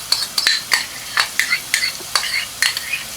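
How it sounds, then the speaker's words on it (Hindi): A spoon stirs yogurt into Punjabi chana in a pot, producing a series of sharp clinks and scrapes in an uneven rhythm over a faint background sizzle, close and unaccompanied by voices. "योगर्ट डाल के इसको पहले आप अच्छी तरह मिक्स कर देख लें।"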